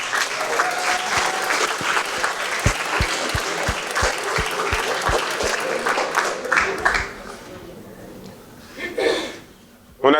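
An audience at a university eloquence contest applauds a speaker in a steady, loud burst of clapping with a few sharp individual claps standing out, then fading toward the end as a voice briefly comes through.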